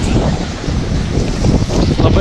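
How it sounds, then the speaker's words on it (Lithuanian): Strong wind roars and buffets the microphone continuously, loud and close, while travelling outdoors near a lake. "didelis vėjas"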